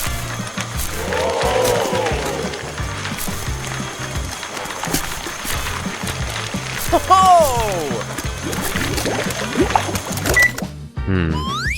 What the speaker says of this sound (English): My newest ice shaver machine will whip up a perfect icy treat in just a minute.